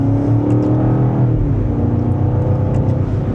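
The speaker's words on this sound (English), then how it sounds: "And so that was a minor acceleration with the shift points in the lowest setting" A 2026 BMW M5 Touring hybrid wagon with a 4.4-liter twin-turbo V8, accelerating in Dynamic Plus mode, gives a loud, steady low engine drone that rises slightly from inside the cabin, with no talking.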